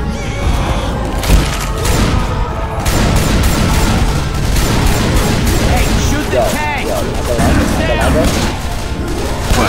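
Gunfire in the video game Left 4 Dead 2 crackles as dense, continuous shooting and booming impacts, loud and relentless from start to finish, with players talking excitedly over the chaos.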